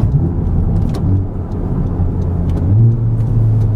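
Honda Civic Type R in R mode, its engine droning steadily from inside the car with a low rumble that swells slightly near the end and no talk over it.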